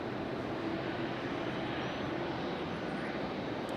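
An Airbus A350 airliner taxiing at Raleigh-Durham airport produces a constant, dense engine rumble and whine, steady and fairly loud from start to finish.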